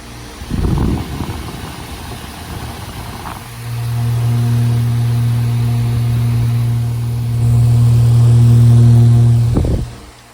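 A 2011 Ducane heat pump outdoor unit running in cool mode starts with a thump and settles into a steady low compressor hum with fan whir, swelling louder near the end before cutting off, no talk.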